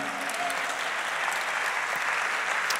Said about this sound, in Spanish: Si ese aplauso es para él, dáselo fuerte.